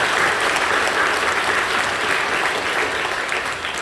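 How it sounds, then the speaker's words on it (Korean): A church congregation applauds in encouragement during a worship service, a steady wash of many hands clapping, loud and continuous from start to finish with no voices over it. "박수로 격려해 주시기 바랍니다"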